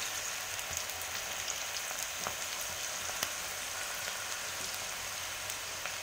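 Snack batter frying in hot oil on a low flame gives a steady, faint crackling sizzle with scattered small pops, continuous and unbroken throughout.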